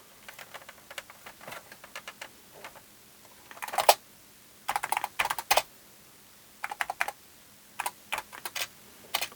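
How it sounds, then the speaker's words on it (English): Keys on a Toshiba HX-10 computer keyboard click in short irregular bursts, crisp and close, with brief pauses between flurries of typing; the key clicks also come through the monitor. "Got a little key click sound coming out of the monitor as well."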